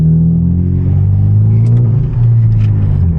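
A manual Genesis Coupe's engine and exhaust drone loudly and close, holding a deep steady rumble with slight rises in pitch as it revs during a night drive on a highway with tunnels.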